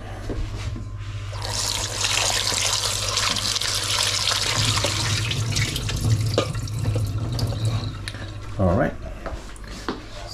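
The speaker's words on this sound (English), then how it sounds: "I'm just going to wash the starch out from the potato." Tap water runs over cut potatoes to rinse off the starch, a steady close splashing rush with occasional clinks and stirring sounds, and a brief deeper gurgle near the end.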